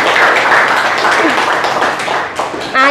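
A classroom of students claps for a group of classmates, a dense, continuous burst of applause that stays loud throughout the short stretch before tapering slightly at the end.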